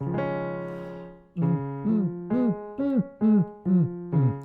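A voice sings a sustained tone, then repeats a short punchy syllable about seven times in steady rhythm, imitating a kick drum in a vocal exercise.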